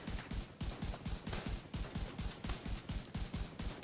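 Rapid automatic gunfire from The Division 2 video game, a steady burst of evenly spaced shots that runs loud and continuous without a break.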